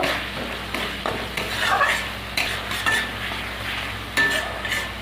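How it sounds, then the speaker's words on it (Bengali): Fish curry masala being sautéed with chili powder in a pan for silver carp curry, a constant close sizzle overlaid by repeated metallic scraping and clinks of a stirring spoon. "লঙ্কার গুঁড়ো দিয়ে একটু কষিয়ে নেব।"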